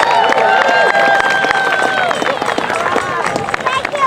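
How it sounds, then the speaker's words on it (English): A large crowd at a rally applauds loudly and steadily, cheers and whistles mixing into a dense wall of clapping that carries on throughout. "How about a big round of applause?"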